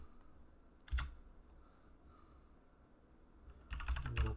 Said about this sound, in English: I'm gonna type it in the address bar itself.